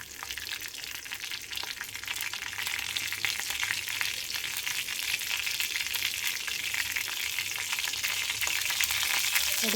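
Mustard seeds crackle and splutter in hot oil while a kadayal of green gram and greens is being cooked, a dense, steady sizzle that holds loud and close for the whole stretch with no voice over it.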